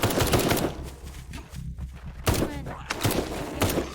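Gunfire in the zombie survival video game Night of the Dead: sharp shots in bursts near the start and again toward the end, mixed with game sounds and fairly loud throughout.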